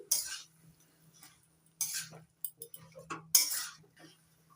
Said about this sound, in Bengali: শাপলাগুলো ভালো করে মশলার সঙ্গে মিশিয়ে নিচ্ছি